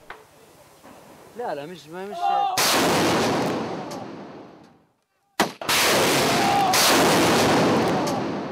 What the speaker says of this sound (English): While the artillery pounds the house from the road